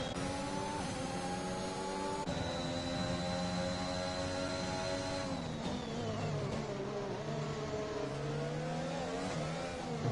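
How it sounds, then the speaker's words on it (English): Several race cars enter a chicane side by side at a URC round in Abu Dhabi, engines droning and shifting pitch together in a constant loud roar as they brake and accelerate through, with no voices. "As we have 5 or 6 cars side by side going into the chicane"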